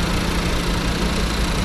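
A Geely Emgrand car engine idles steadily at close range, a constant low hum and rumble with no change in pitch and no voices.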